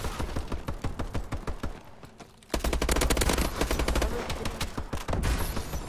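Shooter video game gunfire: rapid automatic bursts rattle almost nonstop, dipping briefly before a louder, denser stretch of shots up close.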